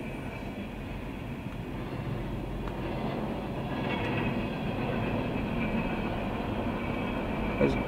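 A freight train of hopper cars loaded with scrap metal rolls past in snowy weather, a steady broadband rumble with faint clanking and wheel noise that holds at a near, even level throughout.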